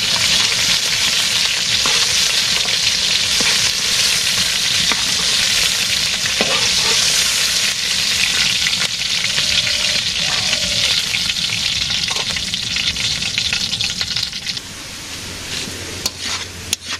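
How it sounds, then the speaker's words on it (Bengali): Potatoes fry in a pan with a loud, steady sizzle and occasional stirring clicks, continuous for most of the stretch before easing slightly near the end. "আলু ভেজে নিলাম"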